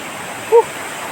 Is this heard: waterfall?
yes